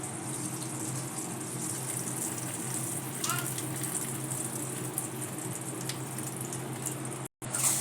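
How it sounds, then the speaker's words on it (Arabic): Water pours steadily into a cooking pot while preparing rice for kabsa, with salt being added, a continuous rushing stream that briefly cuts out near the end. "هسه نضيف المي، ضفنا المي والملح"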